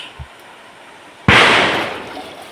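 A single sharp firecracker bang bursts out loudly, its crackling echo fading over a second, after a faint distant pop.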